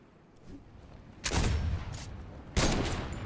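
Gunfire in the video game Fortnite: two loud, sharp blasts about a second apart, each trailing off into a rumbling decay over a quiet in-game background.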